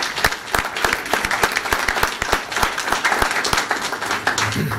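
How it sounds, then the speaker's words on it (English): Attendees at a board of education meeting give a round of applause, a crisp, continuous patter of many individual claps from a moderately sized crowd, with sharp hand strikes standing out throughout. "If you can get a round of applause for those are huge percentages"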